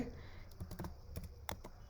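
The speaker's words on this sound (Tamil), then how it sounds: "நேனோ அப்படின்ற கமாண்டை டைப் பண்ணிவிட்டு" Short bursts of keystrokes as a command is typed on a computer keyboard, irregular clicks spread across the clip, close and fairly quiet against a faint background hum.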